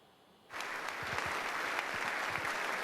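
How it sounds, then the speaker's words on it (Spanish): Sustained ovation for Zelensky in the US Congress: dense applause from a large chamber audience starts abruptly after a quiet moment, then holds steady and loud to the end. "Ovación a Zelensky en el Congreso norteamericano"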